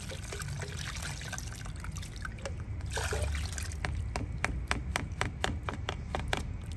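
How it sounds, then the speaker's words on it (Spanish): Water is poured into a ground, strained chili sauce for chicken, a steady close trickle over kitchen background noise, followed by a series of sharp small taps and splashes. "Le voy a agregar un poquito más de agua."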